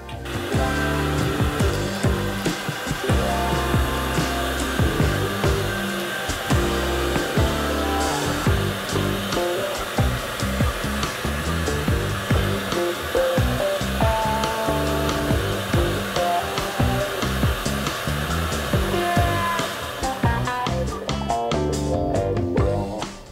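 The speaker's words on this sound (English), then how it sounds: "It's like a hairdryer." A loud, steady rush of blown air from an air blower, like a hairdryer, clearing debris from routed guitar pickup cavities, runs continuously without pause for the whole stretch, with no voices.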